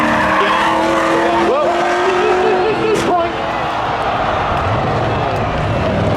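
At a Memorial Day spectator drag race, a 1985 Chevy Corvette and a Chevy Camaro launch together. Their engines roar loudly and without a break, and the tires squeal briefly. Voices carry faintly over the noise.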